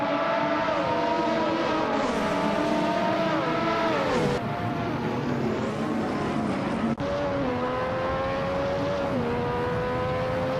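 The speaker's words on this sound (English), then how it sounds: "The F1 1988 cars seem well matched for this track, with close positioning and no major gaps." Several F1 1988 race cars in a racing video game scream past in a close pack, with loud high-revving engine whines rising and falling through gear shifts and overlapping continuously.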